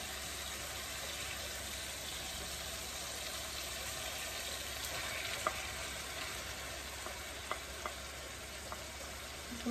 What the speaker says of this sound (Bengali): একটু মশলা কষায় নিতেছি